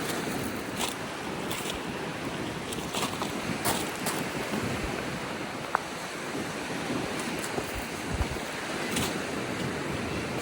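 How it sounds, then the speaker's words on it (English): Strong wind rushes and buffets across a rocky shoreline while waves wash in steadily beneath it. The roar stays dense and unbroken, with a few brief gusty peaks. "it's windy down here"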